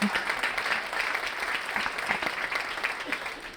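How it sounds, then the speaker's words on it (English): Steady applause from a sizable audience at a leadership breakfast, dense clapping that holds at an even level throughout without a break. "Let's go round of applause for all of our events."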